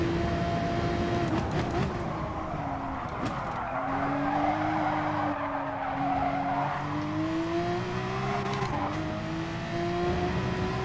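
Tyres skid and squeal through oversteer in Gran Turismo Sport during an FIA Manufacturers race, a loud sustained screech over the droning race-car engine that rises and falls as the car slides.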